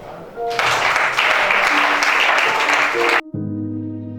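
Audience applauding at a church gathering, a burst of clapping for about three seconds that cuts off abruptly into a sustained musical tone.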